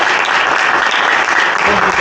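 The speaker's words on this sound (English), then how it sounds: "Big round of applause, please, for all of those support" Loud, sustained audience applause fills the room at a STEM public forum event, steady dense clapping throughout with a faint murmur of voices mixed in.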